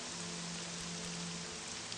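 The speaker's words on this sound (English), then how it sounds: "Let's get the rain out of here." Steady rain hisses in the Morrowind game world with the Tamriel Rebuilt mod, a dense, even patter with no voices.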